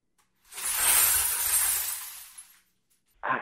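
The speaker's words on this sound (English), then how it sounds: "A hand crank that just spins this drum, and the outside is covered in mesh wire, and the inside is just filled with glass." A hand-cranked drum wrapped in mesh wire and filled with broken glass makes a loud, sustained crashing shatter lasting about two seconds, then stops abruptly, with a faint clink afterward.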